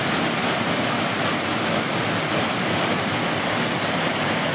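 Fotinovo waterfalls near the village of Fotinovo roar in a steady, loud, broadband rush of falling water, close and continuous with no voices over it.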